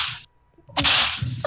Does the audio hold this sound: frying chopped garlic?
no